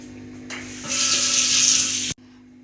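Water poured from a bowl into a pressure cooker holding mung and masoor dal, a steady splashing rush lasting about a second and a half before cutting off abruptly, close by with no talk.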